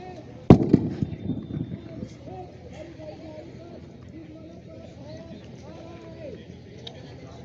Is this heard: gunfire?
yes